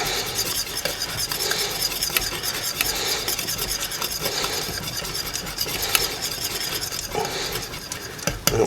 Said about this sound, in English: But just give it a good stir.